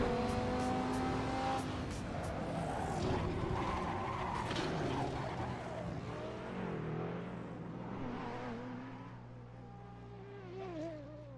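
Supercars race in a full-motion sim racing game with loud engines droning and revving, tires squealing in wavering skids, and cars rushing close by throughout.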